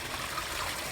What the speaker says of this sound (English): I think I'm going to shut the hose off now